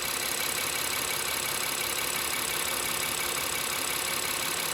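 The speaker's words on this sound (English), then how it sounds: "So now I'm gonna go inside the vehicle and start the engine." A 2016 Honda Pilot engine, flagged with a bank 2 air-fuel ratio imbalance code, idles steadily with a dense, even mechanical hum and hiss that holds at a constant level throughout, with no voices.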